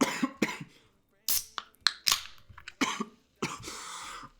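Someone coughs several times in harsh bursts, with brief pauses and throat-clearing between, close to the microphone.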